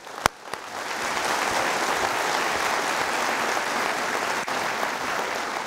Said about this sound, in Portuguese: E vamos aplaudir a Jesus.